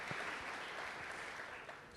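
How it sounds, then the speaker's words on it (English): An audience at an NYPD High Holy Days briefing clapping for a deputy inspector, a steady patter of many hands heard from a distance and fairly faint throughout. "you clap for the deputy inspector"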